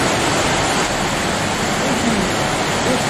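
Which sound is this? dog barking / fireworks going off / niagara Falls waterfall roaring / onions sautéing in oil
niagara Falls waterfall roaring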